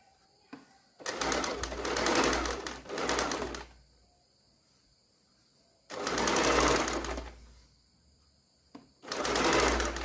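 A sewing machine stitches a blouse neckline in three steady bursts of fast mechanical whirring, close and fairly loud, separated by quiet pauses.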